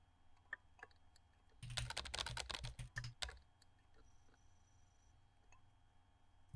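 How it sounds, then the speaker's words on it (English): Fast typing on a computer keyboard fills a burst of rapid, dense key clatter lasting under two seconds, close and clear against a quiet background with a few stray clicks before and after. "This is my real typing speed."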